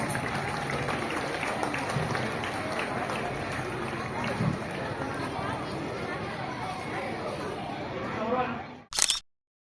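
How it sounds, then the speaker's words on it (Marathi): Sustained audience clapping at a school annual gathering for a Father being honoured with a gift and bouquet, a dense steady wash of hands lasting several seconds with crowd chatter mixed in, ending in a brief sharp burst. "आपण जोरदार टाळ्या वाजवूया."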